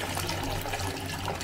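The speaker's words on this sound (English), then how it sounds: "just run a little bit into the pan" Water from a shower hose splashes into a shower tray in a brief, steady hissing rush, close and continuous, with no talking.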